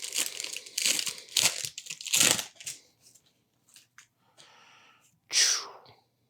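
A Pokémon Hidden Fates card pack wrapper being torn and crinkled open by hand, heard up close as several bursts of foil crumpling and tearing with short quiet gaps between them.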